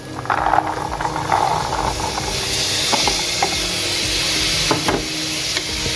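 Soaked chickpeas tipped into hot fried masala for Amritsari pindi chole, giving a steady close sizzle and hiss with a few sharp crackles and pops throughout.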